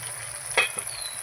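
Chicken masala sizzles softly as it is sautéed in a pan, a low steady hiss with a couple of short stirring scrapes.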